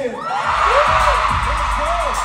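A live crowd at a Dustin Yu fan event shouts and cheers together in a loud, steady roar, with rising whoops and yells on top.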